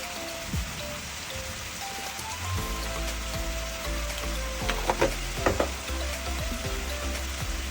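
A spoon scrapes and knocks in a pan while a potato and mushroom curry is stirred, over a steady low sizzle, with a few light clinks, quiet and close.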